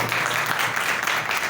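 A church congregation applauds loudly in praise of the Lord, producing a thick, continuous wash of many hands clapping at once that stays at full strength throughout.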